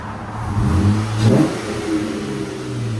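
A 2014 Jeep Wrangler 3.6L V6 with a Borla ProXS exhaust idles with a low hum, then revs up briefly and settles back, close by, with no talking.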